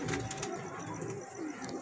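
A Teddy pigeon with a slight Seth Teddy cross coos softly in a breeding setup, low throaty coos repeating under faint background noise, close but quiet.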